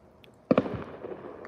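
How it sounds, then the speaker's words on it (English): Fireworks bursting on New Year's Eve: a pair of sharp cracks close together, followed by a fading crackle and rumble at a moderate distance. "So we got some firework action over there."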